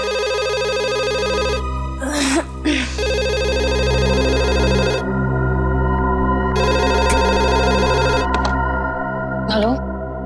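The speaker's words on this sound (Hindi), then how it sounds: "इतनी रात को कौन फोन कर रहा है?" Several bursts of a telephone bell ringing indoors at night, loud and repeated in a steady pattern, with a background music drone and brief voices between rings.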